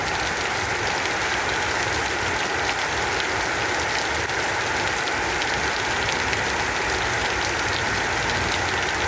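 Steady rain pours down in a cool, unexpected shower, a dense even hiss of drops on surfaces running without pause, with a low engine-like rumble underneath.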